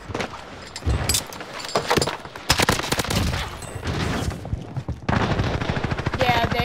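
Video game gunfire, rapid bursts of automatic shots and single cracks spread across several seconds, loud and close with short pauses between volleys.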